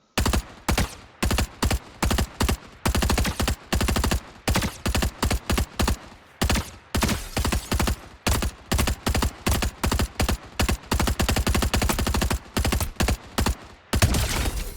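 Rapid automatic weapon fire from a looter-shooter video game, loud bursts of shots in quick repeated strings with short pauses between them, continuing throughout without talk.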